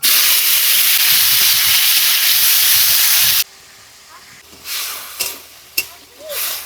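Cumin, dried chili and potato hit hot oil in a home kitchen with a loud, steady sizzling hiss that cuts off abruptly, followed by quieter scraping and stirring clatters.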